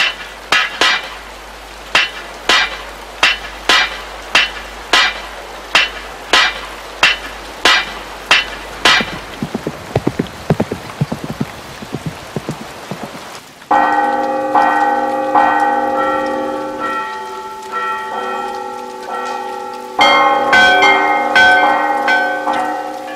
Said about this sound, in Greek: οι καμπάνες, μικρές και μεγάλες, μέσα από τις δοκιμές επιβεβαιώνουν την ετοιμότητά τους.